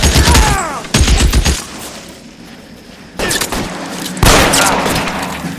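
Gunfire in a shootout in the video game L.A. Noire comes as loud, close bursts of rapid shots that alternate with brief quieter gaps, and no voices are heard.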